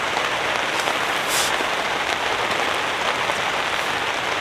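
Heavy rain pours steadily onto a campsite beside a lake, a dense, continuous hiss of drops drumming on surfaces, close and loud throughout, with no voices.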